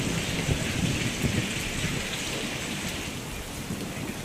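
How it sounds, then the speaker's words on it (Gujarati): Steady heavy rain pours down during a thunderstorm in rural Amreli, Gujarat, near Dhari Gir, with a continuous dense hiss and low rumbling throughout, loud and unbroken, with no voices. "અનેક વિસ્તારોની અંદર વરસાદ વરસી રહ્યો છે"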